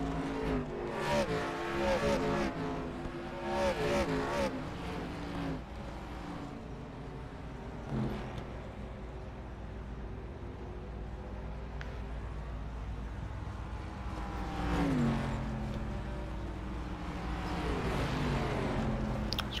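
NASCAR stock cars roar past on the track in a racing video game, a steady engine drone with rising and falling pass-bys and brief tire squeals, continuous and fairly loud.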